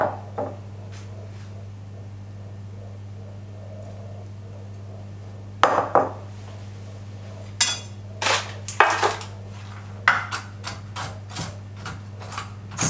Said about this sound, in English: I'm chopping up some raw almonds